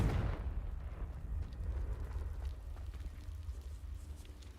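In Hogwarts Legacy, a Confringo blasting spell goes off with a heavy, moderately distant boom, followed by a deep rumbling tail that lingers and slowly settles over several seconds.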